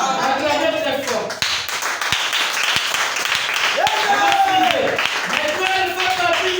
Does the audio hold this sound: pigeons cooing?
no